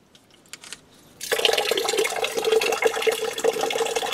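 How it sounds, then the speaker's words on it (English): Water gushes out of a water heater being drained to flush out sediment, starting abruptly after a quiet second and then splashing steadily and loudly close by. "water's coming out now, as you can see"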